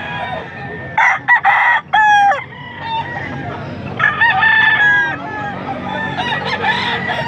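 Young rooster (stag) crowing at a crowded poultry market in Angeles, Pampanga, several loud close crows with harsh rising calls, over a busy background of clucking fowl and distant crowd noise.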